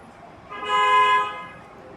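A single vehicle horn honks outside, one clear sustained toot of about half a second that swells up and fades over faint background noise.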